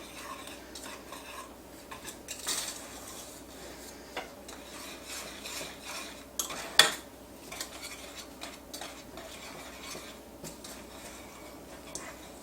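A whisk working chocolate syrup ingredients together in a saucepan, soft irregular scraping and light metallic ticks against the pan, quiet and close, with one sharper clink partway through.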